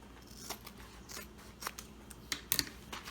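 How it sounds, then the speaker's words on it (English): Scissors snip through duct tape during a craft project, a few quiet separate cuts with a brief cluster of sharper snips near the end, close and alone without talk. "I'm just going to trim a little bit so I can fold this over."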